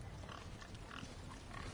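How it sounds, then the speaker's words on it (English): Pigs in the video game Resident Evil 4 Remake make faint low grunts within a dense, noisy game soundscape, very quiet and brief, with no talk. "We got fucking pigs here now too."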